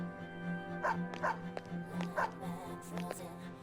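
A dog in the video game Persona 3 FES giving a run of short yipping barks, about five or six spaced apart, over a steady game music or ambient hum, with speech alongside.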